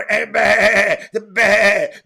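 A goat or lamb bleats loudly and close by in two long, quavering cries separated by a short gap, with no other sounds around them.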